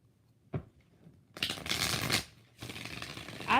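Deck of tarot cards being shuffled up close, a soft tap followed by two bursts of rapid riffling and flapping, quiet room around it.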